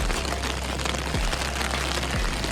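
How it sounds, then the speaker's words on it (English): A heavy rain downpour in Madeira makes a dense, continuous roar of droplets on surfaces over a deep low rumble. The rain is loud and close throughout, with faint dull thuds mixed in. "The little drizzle has turned into a downpour."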